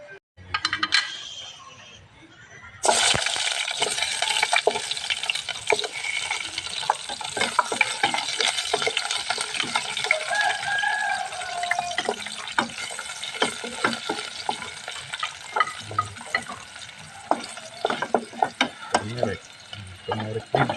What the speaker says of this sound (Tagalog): magluto tayo ng saluyot at saka papaya. Lagyan natin ng sardinas.